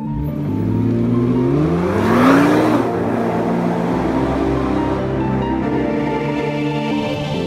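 A Nissan GT-R Black Edition from 2017 accelerates hard, its engine note rising in pitch to a loud peak, then settling into a sustained powerful drone.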